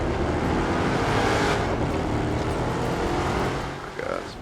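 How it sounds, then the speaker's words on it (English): Monster truck engines, among them Gravedigger and a Fiat monster truck, roaring through a race in The Crew 2, a loud, steady, revving drone that eases off near the end. "Oh my god, this monster truck race."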